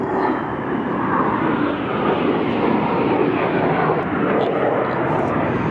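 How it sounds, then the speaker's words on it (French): An airplane drones loudly overhead, a broad steady roar of engine noise that holds constant throughout without fading. "Ça aurait pu être le bruit de la Corvette qui passe, mais non, c'est un avion."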